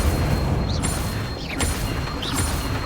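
In Hogwarts Legacy, Incendio fire spells are cast in quick succession, giving a few whooshing bursts and pops over a dense, roaring rumble.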